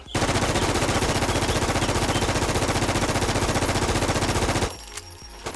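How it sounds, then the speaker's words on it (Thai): A QBZ-95 rifle with lightning skin in the video game Infestation fires a sustained, loud, rapid automatic burst for about four and a half seconds, then stops abruptly, leaving quiet room tone. "ส่วนผมจะยิง ตัวคิวเซสายฟ้านะครับ"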